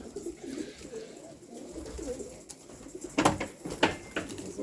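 Pigeons coo steadily in a racing pigeon loft during feeding in breeding season, a low murmuring chorus with a few louder nearby bursts of wing or movement noise.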